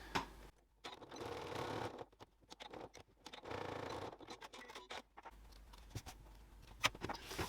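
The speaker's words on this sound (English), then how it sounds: "I've just stitched a little box, small box shape on the corner just for strength." A sewing machine stitches a small reinforcing box shape on the corner of a bag lining in short, close bursts separated by pauses.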